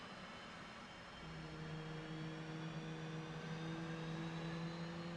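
An F/A-18 Hornet jet engine spools down in a flight simulation game after shutdown. A steady, whining turbine hum sits under a broad roar, with faint tonal lines settling in partway through.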